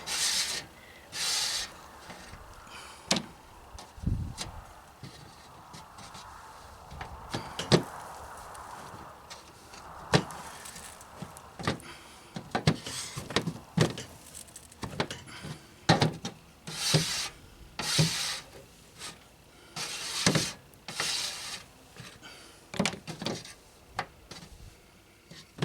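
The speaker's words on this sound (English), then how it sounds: "A rubber spatula and just move the excess oil down to a corner of the tray." Rubber spatula pushing excess oil out of oil-soaked felt in a tray, heard as faint, close, irregular wet rubbing strokes and soft scrapes repeating through the whole stretch, with no talk.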